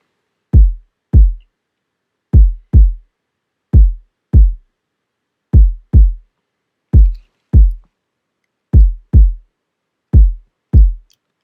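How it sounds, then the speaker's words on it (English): A kick drum sample used in music production plays alone: a steady pattern of deep, booming low thumps, often in pairs, each with a quick attack and a short decaying tail, loud and upfront with nothing else around. "This kick right here is a kick I use in a lot of my songs."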